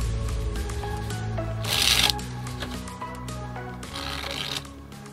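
A faro shuffle of a freshly opened, slightly stiff deck of Bicycle Challenger playing cards: close, crisp riffling bursts, followed by a softer second flurry of cards settling together.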